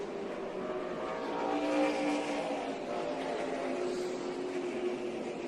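NASCAR race cars roar around the track in a distant, steady engine drone with a faint swell as they pass, without any voice over it.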